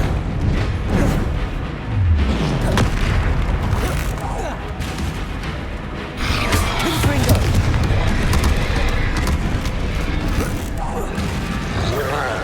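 Confringo blasting curse in Hogwarts Legacy during a fight near a troll: repeated heavy booms and crashes, loud and close, amid busy combat noise with a rumbling low thud early on.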